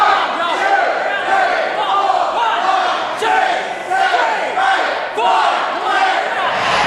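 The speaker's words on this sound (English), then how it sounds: "And the crowd counts out as Bateman rocks the head of Adrenaline with" A large wrestling crowd at the RCW Rites of Passage 2008 show chants and cheers in rhythmic surges, roaring steadily and loudly throughout with no clear commentary over it.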